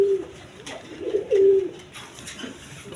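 Rajgolla pigeons, a large-bodied breed, coo at a farm in a few low, soft, rolling calls, close to the microphone and alone against a quiet background.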